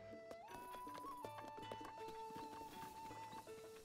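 Horse hooves clip-clopping at a steady walking pace in Zelda: Breath of the Wild, quiet and close, under sustained game music tones.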